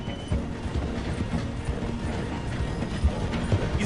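A steam train in Red Dead Redemption 2 rumbles and clatters steadily as it slows to pass through a station, with a continuous rolling mechanical din and occasional hoof-like knocks.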